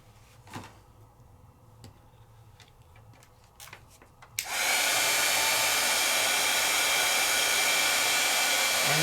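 A heat tool blasts steadily on two layers of craft embossing powder, a loud, constant roaring whoosh that switches on abruptly after a few quiet ticks and clicks and then runs without a break.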